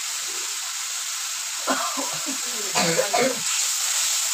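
Spice masala sizzles steadily in a hot pan after a splash of water, a continuous bright hiss with occasional stirring and a voice talking faintly over it partway through.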